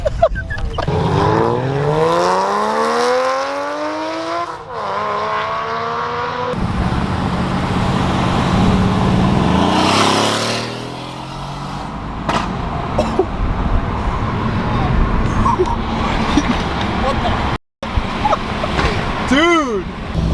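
A Mercedes AMG car roars loudly with revving engine surges and sweeping pitch rises, close by and continuous, while excited people shout and talk over it.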